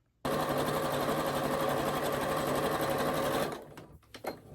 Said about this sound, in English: I have one side sewn. I'm gonna go ahead and sew on the other side of that line.